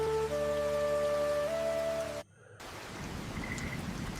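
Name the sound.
heavy rain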